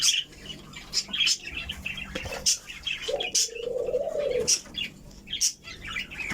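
Bright chirps and short calls from cockatiels and budgerigars feeding on egg food repeat at a steady clip with some wing flutters, close by and fairly loud, with no talking.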